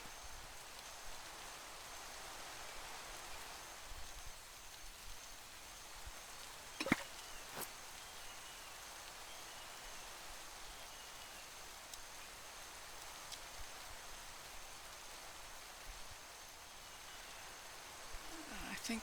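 Steady rain falling in a blocky Minecraft-style game world from the Craftoria modpack, an even, faint hiss that continues throughout, with one brief sharp click near the middle.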